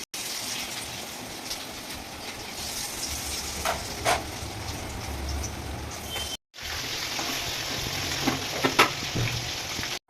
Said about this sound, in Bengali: এবার একে একে আমি ফ্রাই করে নেব